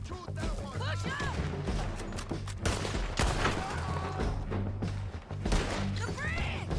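Gunfire in a Red Dead Redemption 2 shootout near a bridge: dense, overlapping shots and impacts crackle steadily throughout, with voices shouting amid the firefight.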